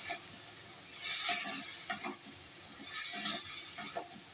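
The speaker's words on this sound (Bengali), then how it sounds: "এবার আমি আবার নাড়তে থাকবো তরকারিটা।" White potato curry is stirred in a hot pan, with slow periodic scrapes and swishes over a soft, steady sizzle, fairly quiet and close with no voices.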